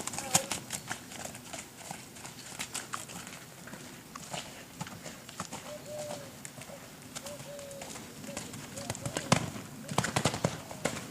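Horse cantering on a cross-country course with hoofbeats clip-clopping through outdoor ambience, birds and pigeons cooing nearby, while a person talks over it.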